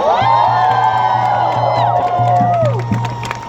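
A crowd at a nurses' union rally cheers and whoops with shouts rising over steady applause, loud and close throughout, tapering slightly toward the end.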